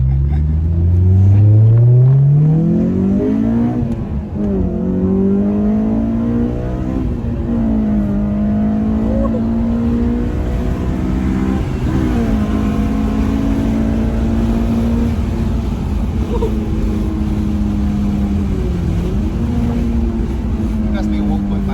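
A 1.5 liter car engine revs and climbs through gears while driving, loud and continuous with rising and falling pitch, with people talking over it.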